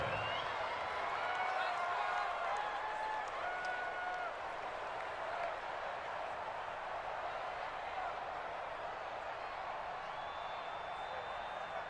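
Football stadium crowd roaring and cheering ahead of a big third down, a broad steady wash of noise holding for the whole stretch without letup.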